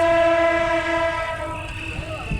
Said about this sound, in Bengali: আওয়াজটা শুনছেন তার মানে নিশ্চয়ই ট্রেন আসতেছে